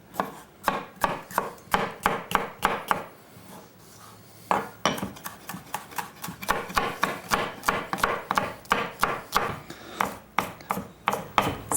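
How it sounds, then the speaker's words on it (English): A knife chops red and green peppers on a board in rapid, steady strokes, pausing briefly before resuming a dense, even rhythm; close and clear with no talk. "Now we need a little bit of diced red and green pepper"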